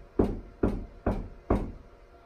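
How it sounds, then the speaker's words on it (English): Four evenly spaced knocks on a door, firm and close, each a sharp thud with a brief decay, with no voices around them. "knock on the door and enter the room?"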